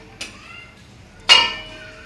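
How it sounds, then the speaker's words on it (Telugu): A metal lid goes onto a pot of pulao in a home kitchen with two clear clinks: a lighter tap first, then a louder ringing clank about a second later that fades out. "ఇదండి దీన్నైతే మూత పెట్టేద్దాం."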